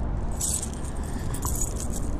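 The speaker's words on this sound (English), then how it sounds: "I like to carry my keys." Keys jangle continuously with light metallic clinking over a steady background of store noise, close by and moderately loud.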